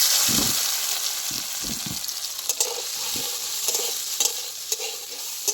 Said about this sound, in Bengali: সর্ষের তেল দিয়েই ভাজছি হলুদের লবণ মাখিয়ে নিয়েছি